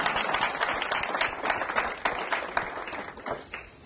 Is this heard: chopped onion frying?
no